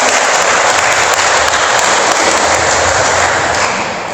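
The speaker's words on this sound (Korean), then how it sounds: "우리 뜨겁게 격려의 박수 한번 해주시기 바랍니다." A church congregation at a Sunday worship service applauds warmly, dense, loud and continuous clapping from many hands that tapers slightly at the very end.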